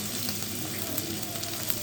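A keema paratha fries on a griddle over medium-low heat, giving a steady, close sizzle throughout with faint crackles and no speech.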